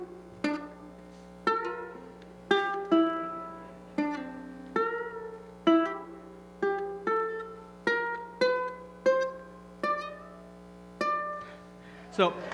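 A plucked riff with bent notes rings out as a run of about a dozen sharp attacks, each decaying with bright harmonics and pitch glides, steady rhythm over a low hum, heard alone.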